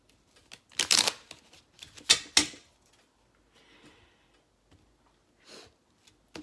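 A mini Rider-Waite Smith tarot deck being shuffled gives a few quick riffling bursts close up, then soft card taps and handling noises spread across a mostly quiet stretch.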